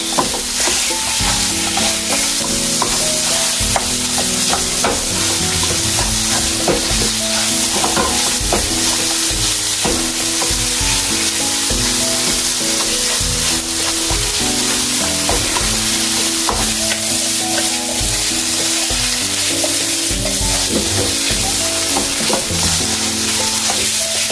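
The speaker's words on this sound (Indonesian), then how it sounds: "Oke, saya masukkan ke sini ya, langsung ditumis." Corned beef stir-frying in a pan with a steady, close sizzle and the scrape of stirring strokes throughout, with no talking.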